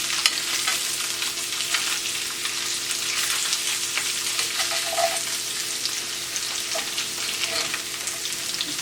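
Firm tofu cubes browning in a pan, a steady close sizzle and crackle of frying that holds without a break, with a few faint clinks of a utensil stirring.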